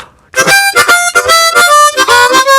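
Blues harmonica lick in second position played near full speed, quick choppy bursts of bright reedy notes with rhythmic breathy attacks, close and loud, with no voice over it.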